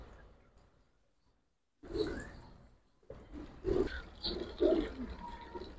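Domestic pigeons, Giribaz and Subchila fancy breeds, coo in soft repeated low throaty bursts close by after a quiet opening, several calls in the last few seconds.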